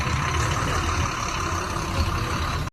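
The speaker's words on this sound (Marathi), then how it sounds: "आता बसचा प्रवास सुरू झाला आहे" A bus engine drones steadily at the start of a journey from Mumbai toward Guhagar, a constant low rumble with a smooth hum that holds unbroken and fairly loud before cutting off abruptly.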